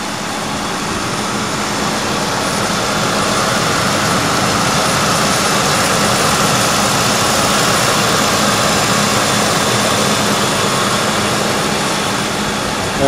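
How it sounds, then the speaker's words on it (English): A damaged Ford Crown Victoria's engine idles steadily, a loud, continuous rumble with a constant low drone and broadband hiss that holds unchanged throughout, with no voices. "Motor sounds nice and strong."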